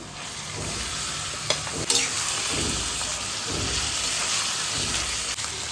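Sliced onions frying lightly in hot oil on a high flame for a ridge gourd and poppy seed posto, giving a steady, loud, hissing sizzle with a few brief clicks of stirring.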